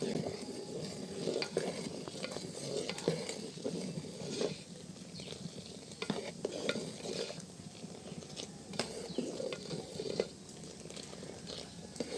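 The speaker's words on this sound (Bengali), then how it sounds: "একটা কাপার মাধ্যমে ভালো করে নেড়ে নিব একটু পরপর নাড়া দিতে হবে যাতে দুধের সর না পড়ে" A spoon stirring milk in a clay pot, with repeated scraping strokes and light knocks against the pot over a soft simmering bubble, close and moderately quiet, no voices.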